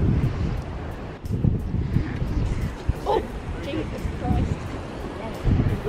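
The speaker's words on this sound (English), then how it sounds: "Windy down here." Strong seaside wind buffets the microphone in steady rumbling gusts, with someone talking intermittently over it.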